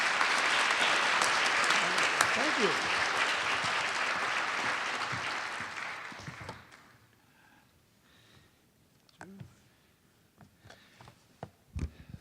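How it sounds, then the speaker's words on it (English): An audience applauds award winners at a college state-of-the-college address, with dense sustained clapping for about six seconds before it fades out, after which a voice briefly says thanks amid scattered small sounds. "join me in one more round of applause for all of the award winners"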